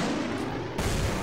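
Explosive blasts from bombing in the Left 4 Dead 2 game, set in The Parish, rumbling loud and broad with a fresh heavy burst about two-thirds of the way through, continuous booming texture without talk.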